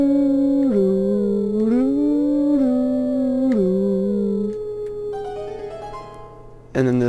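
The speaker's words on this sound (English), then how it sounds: "And now we get a cool cutscene of the two wolves, and they're gonna howl it together." Two wolves howl the Song of Healing together during a cutscene in Zelda: Twilight Princess HD. The long, sustained, melodic howls are steady and clear over a quiet game-music bed, ending in a brighter swell.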